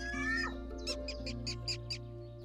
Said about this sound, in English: The sound assigned to the birds that I upload to the digital habitats correspond to the actual bird species.